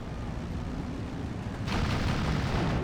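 Mortar fire from 60mm mortars suppressing infantry in the WW2 strategy game Steel Division 2, a dense rumbling barrage of booms that swells louder partway through, with no talk.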